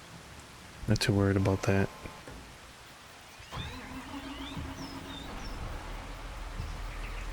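Rainfall in Farming Simulator 25, a soft steady hiss of falling rain that continues under and after a brief spoken line, with faint chirps scattered over it.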